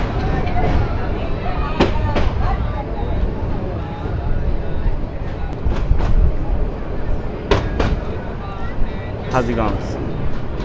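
The Sagorika Express pulls away from Hajiganj railway station with a steady, broad rumble that runs throughout, while someone talks over it.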